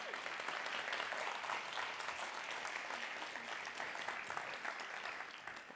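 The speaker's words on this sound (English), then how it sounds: "let me introduce to you Leo, with a big applause from your side" An audience at a type 1 diabetes sports event applauds a guest coming on stage: continuous, fairly distant clapping from many hands, steady and even throughout.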